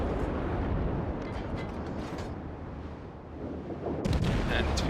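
Naval guns of the destroyer Gremyashchy firing in World of Warships, heavy booming blasts over a dense rumbling battle background, with a sharp louder burst near the end.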